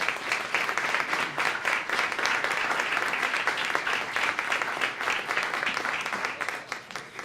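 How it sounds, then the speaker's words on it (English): Audience applause at a hotel groundbreaking ceremony, a steady dense wash of many hands clapping continuously and fairly loud for several seconds, with no voices. "Please give a round of applause for Pete Snavely, president of the Snavely G"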